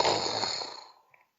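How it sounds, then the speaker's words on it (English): A single loud, close snore fills the clip. It is a rough, breathy sound that fades away over about a second, followed by a faint short snort. "Another snore?"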